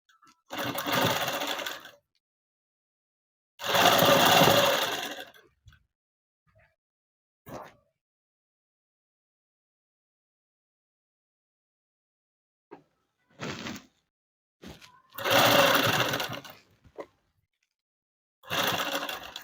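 A sewing machine stitches a blouse hem in short separate bursts of whirring, each a second or two long, with silent gaps and a few light clicks between runs.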